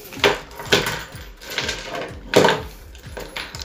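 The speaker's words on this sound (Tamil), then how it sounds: "இது வந்து என் கீ." Metal keys taken from a cyclist's bag jangle close by in several short bright rattling bursts, separated by brief pauses, with no talk.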